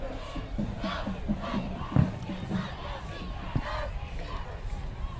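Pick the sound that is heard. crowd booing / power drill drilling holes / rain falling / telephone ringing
crowd booing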